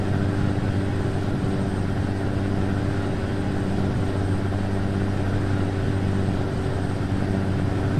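A 2018 Freightliner Cascadia truck engine in American Truck Simulator drones steadily uphill, a constant loud low hum with strong tonal harmonics and no break.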